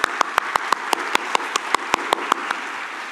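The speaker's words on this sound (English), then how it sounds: "I love getting applause." Audience applause after a conference talk on Python async programming, a dozen or so sharp, evenly spaced claps at a steady rhythm over a quieter wash of applause, fairly close.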